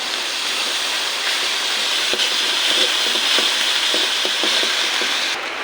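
Onions sautéing in a pan on a new stove with ginger garlic paste added, making a steady, loud hiss and sizzle with faint scraping stir clicks throughout and no voices.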